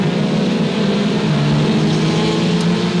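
Race cars at Sauble Speedway roaring in a dense, continuous engine drone, a pack of cars passing steadily and loudly with no break or talk.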